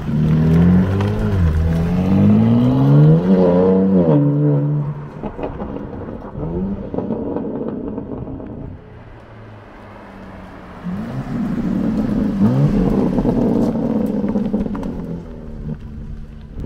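A BMW M4 Competition G82 with a stage 2 engine and exhaust drives on the road, its metallic exhaust rising and falling through revs in close, loud waves, dipping to a quieter cruise in the middle before swelling again.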